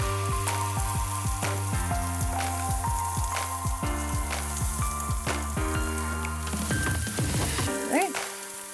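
Handfuls of spinach hit a hot pan for chicken lasagna, setting off a loud, crackling sizzle with popping spatter and scraping stirs, close up and continuous, then rustling as the greens are moved near the end.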